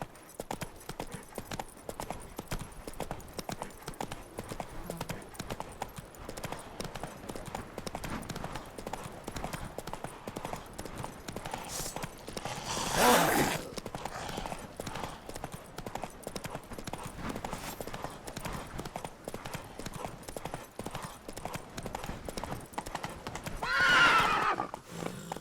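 Roach, Geralt's horse in The Witcher 3, gallops with a fast, continuous clip-clop of hooves, broken twice by loud whinnies, with no one speaking.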